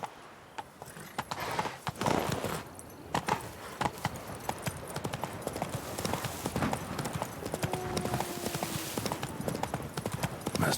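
Roach, a horse in The Witcher 3: Blood and Wine, gallops with a steady, fast clip-clop of hooves, close and continuous throughout, over a faint ambient game background.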